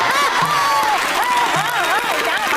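An audience at a comedy show claps loudly in a dense, continuous wash, while a voice rings out over the crowd.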